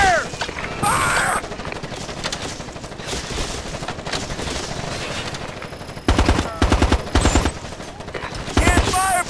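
Automatic weapons fire in a Ghost Recon Advanced Warfighter 2 firefight, loud bursts of rapid shots that come and go, then dense repeated volleys, with shouted voices mixed in.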